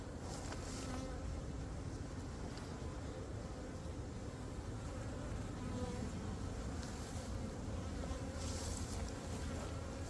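A dense, continuous hum of many honeybees fills the air, steady and enveloping, like standing right beside a busy hive.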